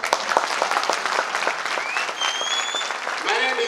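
Audience applause at a motivational speech by an AWPL Royal Ambassador, a steady dense clatter of many hands clapping close by, holding evenly throughout with a few whistles rising near the end.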